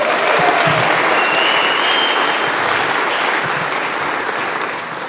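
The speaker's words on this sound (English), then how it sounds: "so give them another round of applause" A concert audience applauding the trumpet section of a band, a loud, dense, sustained clapping from a large crowd that fades slightly at the end.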